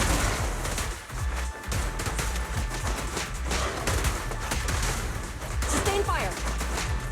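Gunfire in the video game Zenless Zone Zero: dense, continuous bursts of shots and impacts over game sounds and music, with character voices speaking throughout.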